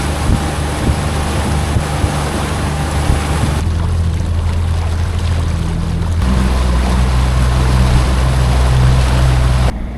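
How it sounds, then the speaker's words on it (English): A new 2026 Tohatsu 30HP outboard motor being broken in pushes a boat along at steady low speed. Its droning hum holds constant under wind buffeting the microphone and the rush of water, close and loud throughout. "we're gonna finish up breaking in the motor and then head back home."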